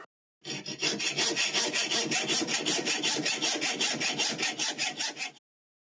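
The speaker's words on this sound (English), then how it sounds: "let me take the corners off these washers then. Let's get the hacksaw out" A hacksaw cuts the corners off metal washers in quick, even back-and-forth strokes, a close and loud rasping rhythm lasting about five seconds and then stopping, with no talking.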